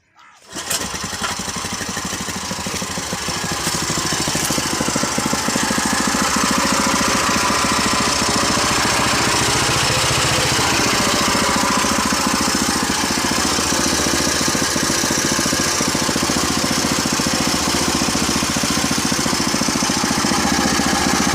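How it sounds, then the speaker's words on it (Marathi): A village milk machine, just repaired, starts up and then runs with a loud, steady mechanical drone that holds for about twenty seconds. "आज सकाळपासून ही दुधाची मशीन दुरुस्त करता येत, तरी ही मशीन आत्ता मला चालू झालेली आहे"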